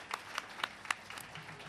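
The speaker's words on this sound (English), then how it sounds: "Let's have another round of applause for Randy, Matthew, and Eric" Scattered, faint applause from a small audience at the close of a panel discussion on art in Alexandria, a handful of separate claps sounding in a quiet room.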